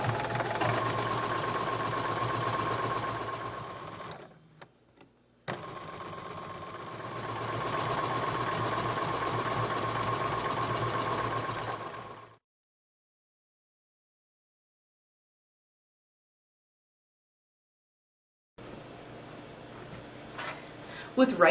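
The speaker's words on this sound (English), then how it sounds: "I'm going to take it back to the machine and I'm going to zigzag stitch right along that raw edge to finish that seam" A sewing machine zigzag stitches along a raw seam edge on a colonial costume dress, running in two long steady bursts with a brief pause between, then silence, and later a faint rustle.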